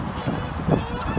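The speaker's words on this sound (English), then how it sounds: "Fighting and arguing and squawking." Geese or ducks squabble and honk over bread at a sunset beach on Lanzarote, with a short burst of harsh, close, overlapping squawks against wind-blown outdoor noise.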